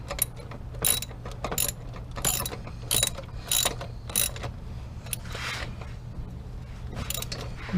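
A ratchet wrench tightens the lug nuts on a tire, giving several short bursts of rapid clicking at close range with brief pauses between strokes, over a steady low background hum.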